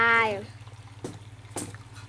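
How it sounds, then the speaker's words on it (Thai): Water is poured into a pot during home cooking, giving a couple of quiet, brief splashing pours after a short voice at the start, under a low background hum. "เทน้ำลงไป"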